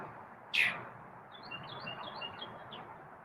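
Birds call outdoors, with one sharp squawk near the start followed by a scatter of faint, quick high chirps over quiet background noise.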